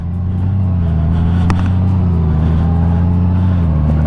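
A 2020 Honda GoldWing Tour DCT motorcycle engine runs at a steady, smooth low hum, loud and close with an even drone and no voices.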